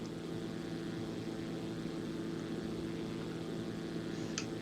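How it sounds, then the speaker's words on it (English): A steady propeller drone from a Zlin Z-142 light plane passing in X-Plane 11, an even, continuous hum at moderate distance with no talk. "How about a little flyby?"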